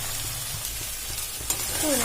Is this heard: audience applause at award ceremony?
no